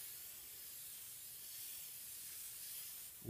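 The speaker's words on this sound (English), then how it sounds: "what I like to do is just go ahead and just spray the whole deck down" Aerosol rust preventive sprayed across the deck of an engine block during a rebuild, a steady continuous hiss that holds for about three seconds at close range, with a brief knock at the end.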